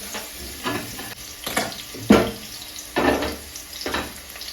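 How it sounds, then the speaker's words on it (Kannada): Onions frying in a pan for tomato sambar, heard as uneven bursts of sizzling and stirring scrapes that swell and fade every second or so, close by with no talking. "ಈರುಳ್ಳಿ ಫಸ್ಟ್ ಚೆನ್ನಾಗಿ ಫ್ರೈ ಆಗಲಿ ಅಂತ"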